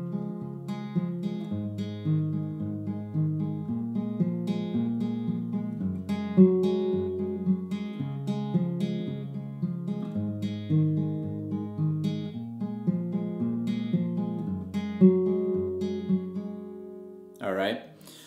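Fingerpicked acoustic guitar with a capo in standard tuning plays a simplified arrangement of a song, a steady, even picking pattern over repeating chords, close and clear with no voice, ending on a brief strum.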